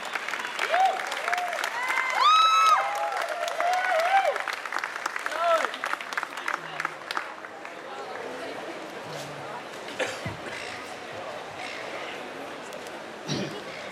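An outdoor crowd at a pro-marijuana rally in Melbourne claps, loud at first with whoops and cheers, then thinning to scattered claps while someone talks over it.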